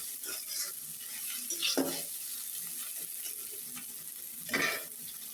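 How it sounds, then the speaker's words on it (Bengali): Fried onions in a pan are stirred with a few soft scraping strokes over a faint, steady background hiss, quiet and close, with no voices. "এখন ভালোভাবে নাড়াচাড়া করে মিশিয়ে নেব।"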